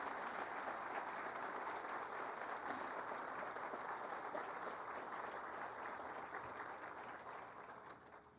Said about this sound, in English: Let's go ahead and give those partners a round of applause.